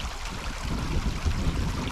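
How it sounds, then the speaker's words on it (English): A creek flows close by in the wilderness, a steady broadband rush and gurgle of moving water with no voices. "So the creek is right here"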